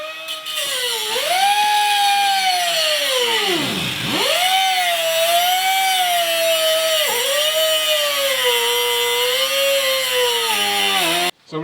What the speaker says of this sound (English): So we just got both the holes drilled out in the knuckles